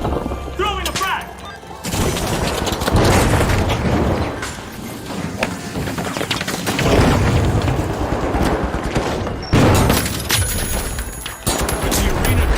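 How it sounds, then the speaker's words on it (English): Frag grenade blast in the video game The Finals amid heavy combat: loud booming detonations and continuous gunfire throughout, dense and close, with voices underneath. "Throwing a frag!"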